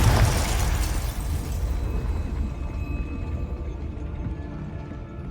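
A Confringo fire spell bursts in Hogwarts Legacy, a loud booming explosion that hits at once and then rumbles and crackles away over several seconds, alone without talk.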